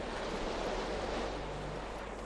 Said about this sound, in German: Wir können wohl kaum einen Wasserfall hochklettern.